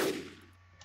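A single hunting rifle shot from the game Mutilate-a-doll 2, one brief sharp report that quickly fades into a faint ringing tail.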